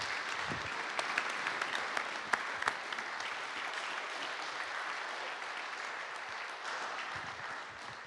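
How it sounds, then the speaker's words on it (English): An audience at a startup pitch event applauds its panelists with a sustained, even wash of clapping. A few sharper claps stand out near the start, and the applause holds at moderate volume for about eight seconds. "So a round of applause, actually, for our panelists today."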